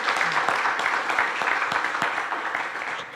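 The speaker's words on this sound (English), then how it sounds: "Let's another round of applause for Danielle" Modest applause from a small audience at a talk session, continuous clapping with a few distinct claps standing out, fairly close and fading slightly toward the end.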